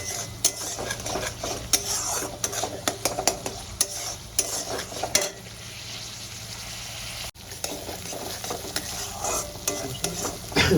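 Spiced masala paste sautéing in a pan, with steady sizzling and repeated scraping and stirring strokes of a spoon against the metal, close and continuous with a brief pause near the end.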